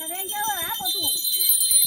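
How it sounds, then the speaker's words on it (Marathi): A bell rings during a Gauri puja in the Konkan at Ganesh Chaturthi. The bell rings steadily under people talking nearby. "आता ती घंटा वाजत जातली"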